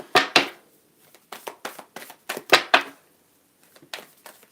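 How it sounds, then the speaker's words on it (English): Tarot cards being shuffled by hand during a love reading, a series of quick riffling and slapping bursts in uneven clusters, close and fairly loud, with no talking. "Okay, enough shuffling."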